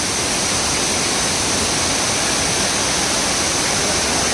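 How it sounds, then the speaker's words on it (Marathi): Steady, dense rush of a Kokan monsoon waterfall near Kalamba, water pouring down both sides of the falls in full spate, a continuous loud broadband roar with no breaks and no voices. "दोन्ही साईडने पाणी पडतंय"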